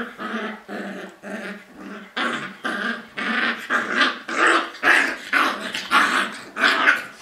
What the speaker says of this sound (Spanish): Va a parecer que tengo un gremlin en vez de un perro.